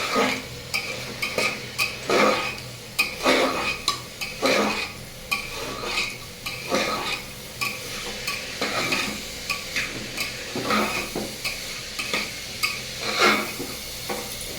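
Something lightly frying with turmeric in a pan while lentil dal is made, heard as a steady close sizzle broken by repeated rhythmic spatula scrapes and metallic clinks against the pan, with no voices.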